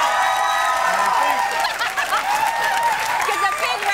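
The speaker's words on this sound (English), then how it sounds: "Gives a big round of applause." Applause from a television studio audience, a dense, continuous patter of clapping mixed with some cheering and chuckles, with a voice speaking over it.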